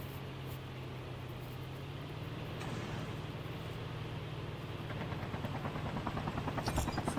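A steady helicopter rotor drone in the game Call of Duty Mobile hums continuously with a low engine tone, staying even throughout with no voices.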